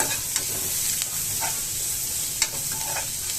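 Crushed garlic and onions sauté in a pan for a mushroom pepper fry, a continuous close sizzle with a few light scrapes of the spoon scattered through.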